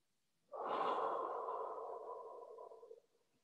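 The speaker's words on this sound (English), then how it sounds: "breathing deeply through the nose and out from the mouth." A slow, deep meditative breath is drawn in through the nose and let out through the mouth, one long, close, airy exhale rising sharply and fading over about two and a half seconds, with no talk.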